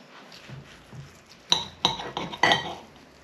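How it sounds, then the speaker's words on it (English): Knife slicing cooked pork fillet on a board, a few soft cuts followed by four sharp clinking taps of blade against plate or board, close and distinct with no speech. "Just slice it up just so you can see."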